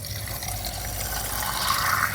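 Water treated through 24 hours of filtration flows out of a container in a simple setup for preparing clean water for fish. It makes a steady, soft rushing trickle with no talk.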